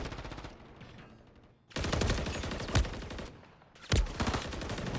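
Video game match gunfire: rapid automatic bursts crackle in two long volleys with a couple of heavier booms, loud and close, separated by a brief quieter gap.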